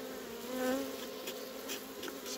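Bees buzzing close around a beehive, a soft continuous hum with one brief louder, higher drone as a bee passes near, otherwise faint and steady.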